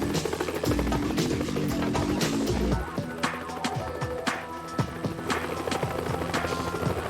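Firefighting helicopter working a wildfire, dropping buckets of water on flames: a loud, steady rotor thrum with a heavy low pulse for the first three seconds, then lighter continuous chopping with scattered sharp knocks and crackles.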